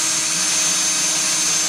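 A 1/2 inch bit drills holes in the dimples of a 1989 Lincoln Town Car door, a loud, steady high-pitched whine running without a break, close by.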